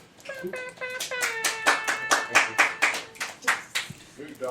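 A short run of rhythmic, evenly spaced hand claps, like a polite golf clap, sounds up close over lively voices talking and laughing.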